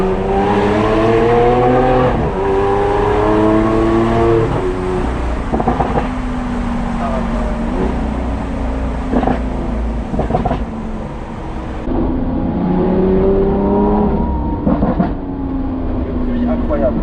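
Lamborghini Aventador S V12 engine revving, with loud rising and falling pitch sweeps in several bursts, partly under people talking.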